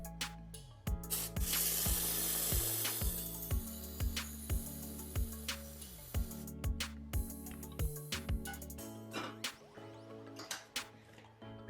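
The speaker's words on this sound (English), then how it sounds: "picking up tools, setting them down" Hair styling tools picked up and set down on a hard surface during an avant-garde messy bun styling session, giving scattered knocks and taps over a busy rubbing, brushing backdrop and background music, with no talk.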